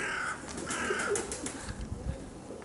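Pigeons flying in strong wind, with wind rumble throughout and a few soft coos and wing sounds over it, fairly near, no talk.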